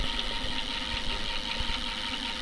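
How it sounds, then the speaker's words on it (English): Addmotor M60 electric bike's rear hub motor spins on throttle with the rear wheel lifted, giving a steady close whirring drone with faint rhythmic pulsing and no talk over it. "There's the motor."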